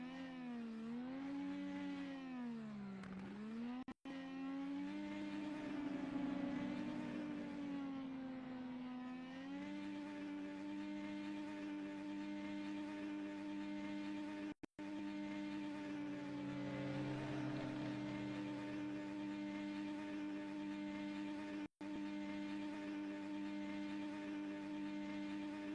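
An IndyCar in iRacing holds a long burnout at Las Vegas Motor Speedway, its engine droning at high, wavering revs with harmonic pitch sweeps, steady and loud for nearly half a minute, broken by a few brief cuts.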